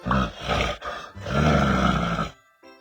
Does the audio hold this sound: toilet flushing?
no